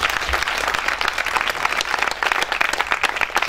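A church congregation at a spiritual retreat breaks into steady, sustained applause, many hands clapping densely and evenly throughout.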